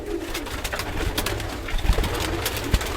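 Pigeons coo softly nearby amid rustling and fluttering noises, with no talking.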